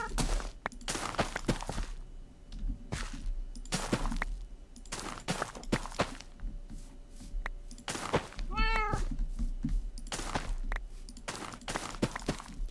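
A cat meows once, near and clear, amid scattered clicks and thumps, with Minecraft gameplay going on in the background.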